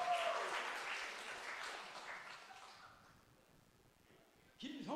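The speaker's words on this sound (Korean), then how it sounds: "10명 박수치고" Church congregation applause during a Sunday worship service, a modest round of clapping that starts fairly strong, fades away over a few seconds into quiet, then a faint new sound enters at the end.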